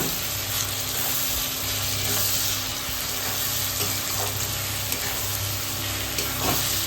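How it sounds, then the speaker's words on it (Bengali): Tomatoes fry with softened onions and salt in a pan, a steady crackling sizzle with occasional stirring scrapes, close and continuous, no voices. "টমেটোটাও ভালো করে একটু ভাজা ভাজা হোক, একটু নরম হোক"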